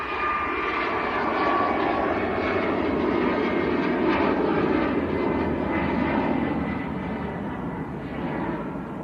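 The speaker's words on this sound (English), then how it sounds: "Right now, just getting airborne. That is going out to Cork in Ireland." Airliner climbing away on takeoff from Manchester Airport, bound for Cork, Ireland; a loud, steady jet roar holds nearly constant throughout, broad and rumbling, easing only slightly toward the end.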